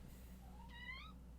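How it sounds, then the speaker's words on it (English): A single drawn-out cat meow rises and falls, faint and somewhat distant, over a low steady room hum with no talking. "There's the cat."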